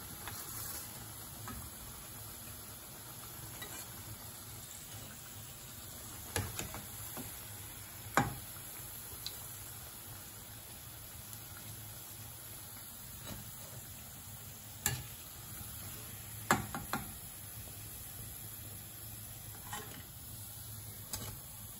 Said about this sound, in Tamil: இப்போ பொரிஞ்சு எடுத்து எடுக்கிறேன் இந்த வடையை